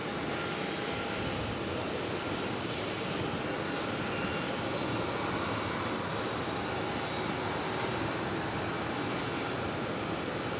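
An Emirates Airbus A380 airliner at JFK airport produces a continuous, broad engine roar that holds steady and fairly distant throughout, with no talking.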